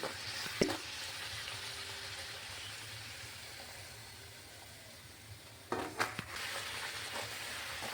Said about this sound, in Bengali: এরকমভাবে আমি সবগুলি লুচি ভেজে নিচ্ছি